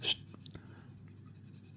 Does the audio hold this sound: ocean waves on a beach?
no